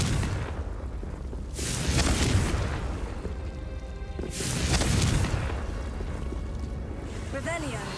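Two loud fiery blasts from the Confringo spell in the Hogwarts Legacy game, each a booming explosion a few seconds apart, with a voice speaking between them.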